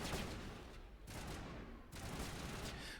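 Multi-shot sniper rifle fire in Mass Effect, dense rapid bursts of noisy blasts with two short gaps, fairly faint and distant-sounding overall.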